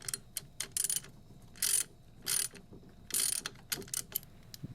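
Bursts of ratcheting and clicking as a front derailleur cable is loosened and disconnected on a Diamondback Axis 27.5 mountain bike, several short close mechanical rasps separated by quiet gaps and soft taps.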